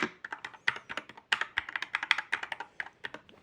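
Rapid typing on an Akko Fun60 Pro 60% mechanical keyboard, a dense run of crisp, close keystrokes at an even, brisk rhythm with no voice.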